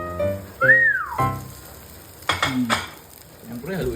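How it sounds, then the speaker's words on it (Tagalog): Leftover rice frying in a pan as kimchi fried rice, a steady sizzle and stirring under a loud whistle-like rising and falling tone and brief clinks. "samahan nyo ako magluto ng kimchi fried rice"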